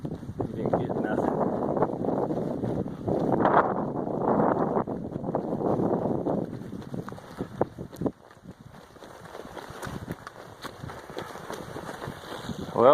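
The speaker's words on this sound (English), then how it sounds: "The wind's starting to die down a little bit" Wind gusting along a snowy Appalachian Trail mountainside, a steady rushing roar buffeting the microphone for several seconds before easing off, close and fairly loud.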